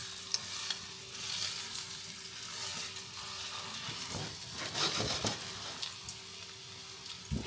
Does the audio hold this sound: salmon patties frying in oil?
yes